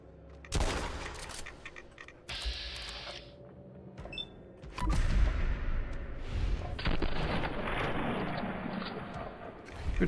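Gunfire in the video game Fallout London comes in sharp, loud bursts, an opening shot followed by scattered blasts and a heavier volley later on, mixed with mechanical clicks and game effects.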